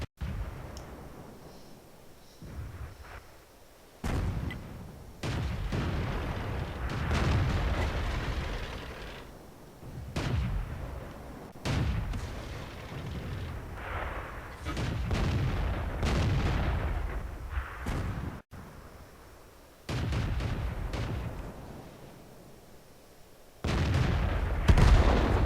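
Heavy artillery in a tank video game fires at a Churchill 7 tank, a series of loud booming shots spaced a few seconds apart, each followed by a rumbling tail.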